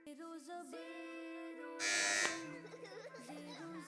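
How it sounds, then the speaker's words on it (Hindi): A team presses the buzzer on a children's quiz show, a short loud electric burst that cuts over a sustained tonal musical backing. "बजर बजाई है अल हरम इस्लामिक स्कूल की टीम ने"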